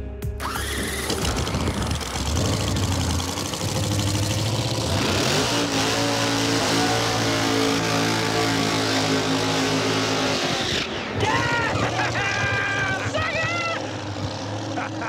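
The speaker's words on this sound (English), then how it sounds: "We really have no idea what's gonna happen with this car when we first let off the trans brake and hit the gas" A drag race car held on a trans brake for a test burnout roars and revs continuously at close range, the engine note climbing and holding loud, then shifting in pitch near the end as voices are faintly heard.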